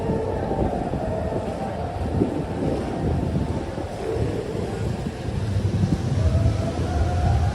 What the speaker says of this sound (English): On this very windy